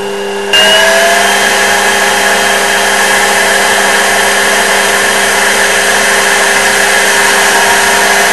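An X2 mini mill spindle with a belt drive conversion spins up in low range and then holds a steady, loud whirring hum with constant tonal whine, close by and unbroken.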